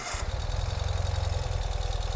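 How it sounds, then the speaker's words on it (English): A 2021 Ural Gear Up motorcycle engine, cold and in neutral, turns over and catches, settling into a steady, rhythmic idle with a pulsing low putter, close and loud. "how can we do the review and not start the motorcycle? So let's start it up."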